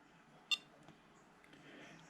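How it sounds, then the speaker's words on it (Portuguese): Altitude alarm from an Aircotec Alib skydiving altimeter, one short sharp electronic beep near the start, faint and alone with only quiet background afterward. "Ele me deu o alarme de altura."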